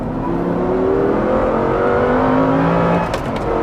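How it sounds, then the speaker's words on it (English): A 700 bhp four-wheel-drive car pulling hard at full throttle in third gear out of a corner, the engine tone rising loud and continuous from inside the cabin, easing slightly near the end. "we're in third gear, when we come out of this corner, I'll just floor it"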